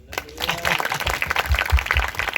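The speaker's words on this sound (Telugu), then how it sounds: "చప్పట్లు కొట్టుము." A church congregation claps steadily through a sermon, a dense and continuous patter of many hands at moderate loudness.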